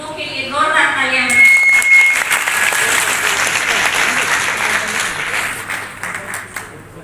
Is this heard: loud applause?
yes